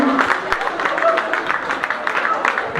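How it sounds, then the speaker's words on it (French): An audience at a citizenship ceremony claps in a dense, steady patter with voices murmuring underneath, moderately loud throughout. "On peut encore applaudir Madame la Ministre"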